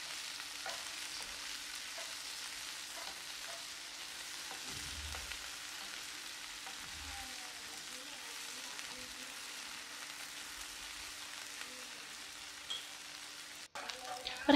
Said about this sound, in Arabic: راح نقليه كامل حتى يكسب هذاك اللون